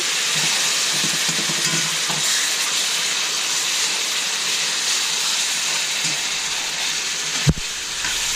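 Onions fry in a pan for pan con bistec, giving a continuous loud sizzle and hiss up close, with a few faint utensil taps and a single sharp clunk near the end.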